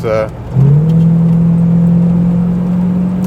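A 1970 Chevrolet Caprice with a 350 V8 accelerates after a brief spoken phrase, its engine swelling into a loud, steady, low drone that rises slightly as it pulls up to speed.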